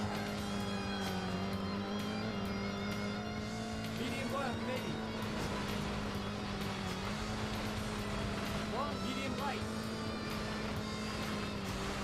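Sega Rally racing on the Sega Saturn, a continuous engine drone with rising revs and occasional tire squeals, loud and steady for the whole stretch.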